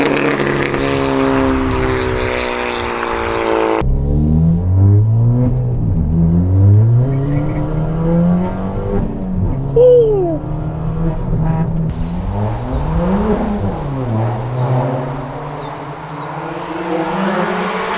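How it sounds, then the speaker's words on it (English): Car with a fully straight-piped exhaust and no rear silencer revs hard, the loud engine note climbing and falling in repeated sweeps with bursts of throttle, close by and with no talking. "let's have one last rip with it fully straight piped"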